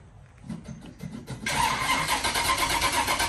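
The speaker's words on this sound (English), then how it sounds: "And this is a cold start." A 1969 Pontiac GTO engine cold-starts: a few quiet cranking pulses give way to the engine catching at about one and a half seconds and settling into a loud, steady, rumbling run, heard close with no talk.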